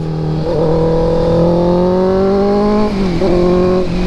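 A Honda CB650R motorcycle engine revs steadily at high pitch, rising slightly, dipping briefly near the end before climbing again, loud and close.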